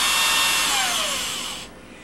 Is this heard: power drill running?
yes